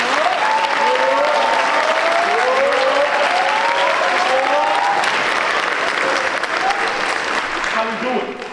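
A school choral concert audience gives a sustained round of applause for a returning performer, loud and continuous, with cheering voices rising and falling through the clapping before it thins slightly at the end.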